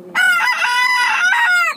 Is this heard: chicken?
yes